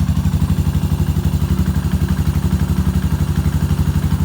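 A custom Yamaha SR400 single-cylinder motorcycle engine idles steadily up close, its low rapid thumping pulses even and unbroken with no voices.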